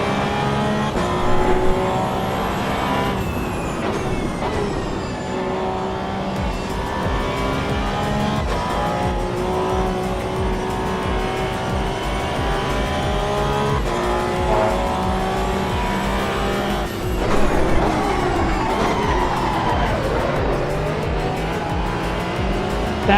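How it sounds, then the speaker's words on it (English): Race car tires squeal through a corner in Assetto Corsa EVO during a Spa 24-hour race, layered over a steady, loud engine drone with sustained harmonic whine and a brief revving surge near the end. "That noise of just squealing tires."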